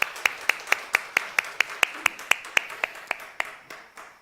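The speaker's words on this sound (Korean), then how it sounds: "예, 다시 한번 박수하겠습니다." A church congregation at a Sunday worship service claps in a steady, even rhythm for about four seconds, with crisp individual claps standing out in a quiet room.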